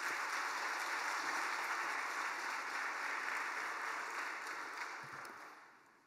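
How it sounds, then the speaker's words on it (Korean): A church congregation at a dawn service claps together to welcome the pastor, a steady broad wash of applause that holds evenly, then fades away at the end. "우리 이 새벽에 목사님 또 환영하는 마음으로 박수로 맞이하겠습니다"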